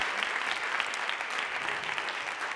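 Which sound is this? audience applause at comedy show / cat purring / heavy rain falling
audience applause at comedy show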